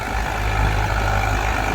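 An Eicher tractor engine at a tractor contest gives a steady, loud low-pitched drone with a slight rough pulse and no voices.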